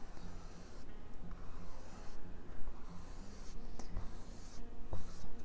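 A coloring tool glides across paper in soft, scratchy strokes, repeating in an uneven rhythm, quiet and close up, with no speech.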